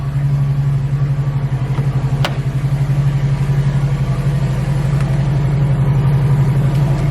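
A family car engine idles steadily after starting, a loud, continuous low rumble running unbroken close by with a brief sharp click partway through and no voices.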